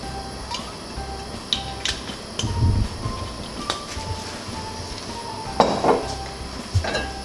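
A large cooking pot handled on a kitchen counter, with metallic clinks and knocks at irregular intervals over a steady hum, followed by a brief soft gurgle of olive oil being poured.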